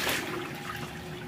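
Water running while clothes are washed by hand, a soft steady trickle and splash with a faint hum underneath, fairly quiet and with no speech.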